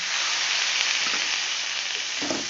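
Cauliflower is sautéed in hot oil with a splash of water for a katla fish curry. A steady, loud, close sizzle continues throughout, with a brief spatula scrape near the end.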